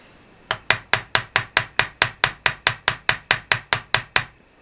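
A planishing hammer taps a nail down on an old spinning rod handle in about eighteen quick, evenly spaced metallic strikes, close and crisp with no talk.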